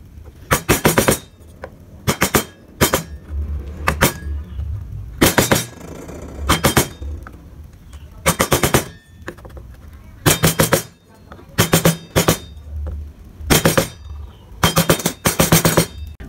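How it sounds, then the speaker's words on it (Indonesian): A wood-carving chisel (pahat kol) taps in sharp, evenly spaced bursts while tidying the gaps of a wooden carving, loud and close, with short pauses between groups of strikes. "Kemudian kita rapikan dari sela-selanya ini menggunakan pahat kol."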